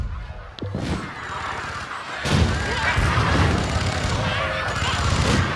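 Booming cannon blasts and crashing impacts in a noisy Spore game battle, several heavy shots in quick succession under constant background din.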